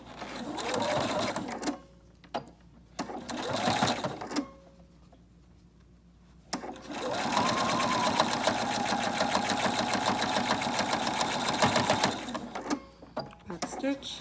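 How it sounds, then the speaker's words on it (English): Sewing machine back stitching bias tape onto a homemade dust mask, several loud whirring bursts, short runs at first and then one long steady run, with pauses between. "Back stitch."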